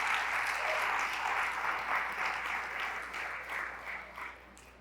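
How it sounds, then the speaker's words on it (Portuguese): Church congregation applauding during a sermon, a moderately faint, continuous patter of many hands that gradually thins and fades toward the end. "Se você crê, aplaude o Senhor em nome de Jesus"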